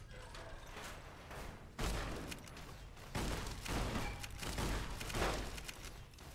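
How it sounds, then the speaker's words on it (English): Shotgun blasts in Fallout: New Vegas, several heavy booming shots fired in sequence with bursts of gunfire and thuds, loud and close, with game noise in between. "let's switch back to my shotgun"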